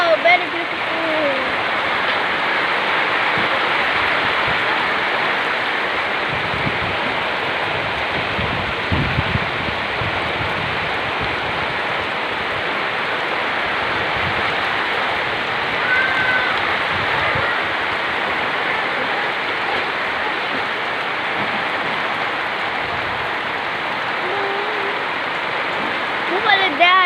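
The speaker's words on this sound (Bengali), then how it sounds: "কাল বৈশাখী ঝড় হচ্ছে আমাদের এখানে, প্রচণ্ড গাছ নুয়ে ফেলাইছে, প্রচণ্ড বৃষ্টি হচ্ছে।" Heavy rain pours steadily during a Kalbaishakhi storm, a dense unbroken roar of downpour lasting throughout, with faint gusts under it.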